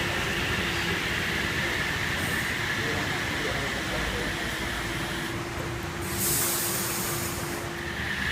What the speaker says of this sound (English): H31 departing platform number 2,